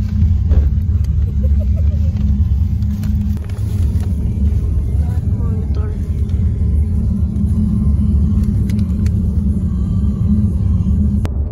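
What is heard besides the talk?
car engine rumbling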